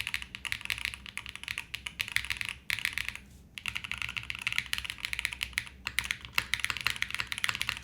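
Typing on a mechanical keyboard with tadpole mounts and no foam, a dense clatter of close keystrokes with a couple of brief pauses, moderately quiet and without any talking.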